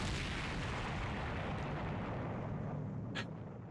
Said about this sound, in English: I blacked out just as the massive explosion rang out.